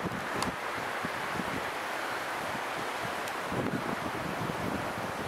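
Constant wind blows with rushing Baltic Sea surf and waves, buffeting the microphone in gusts throughout, with no one talking.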